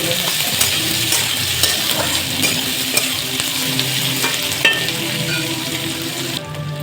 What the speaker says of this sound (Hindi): अब प्याज के अब हल्का हम लाल होके तकले भूज ले हैं